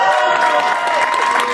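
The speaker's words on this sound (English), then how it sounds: "One more big cheer from the crowd in Brownsburg, Indiana" A crowd in Brownsburg, Indiana cheers and claps for a high school football recruit's in-state commitment to the Hoosiers, a dense, steady roar of voices and applause filling the whole stretch.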